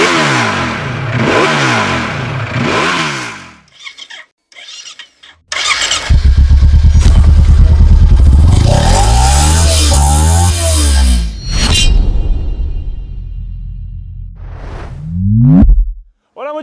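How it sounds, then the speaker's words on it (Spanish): A Ducati Panigale V4 motorcycle on its original stock exhaust starts up and revs hard several times, loud and close, with rising and falling throttle blips and short idle gaps between bursts. "Ahora acelera."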